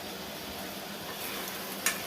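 Food fries steadily in a pan with a constant, even sizzle and is stirred now and then, with one brief metallic scrape near the end. No one speaks.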